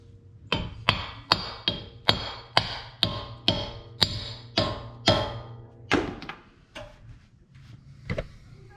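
Hammer blows seating a dust cap onto a new CV axle on a Toyota FJ Cruiser: about a dozen sharp, evenly spaced metallic taps, close and fairly loud, slowing and softening toward the end, with no talking.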